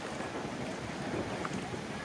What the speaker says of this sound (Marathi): आणि मस्त वारा सुटलेला आहे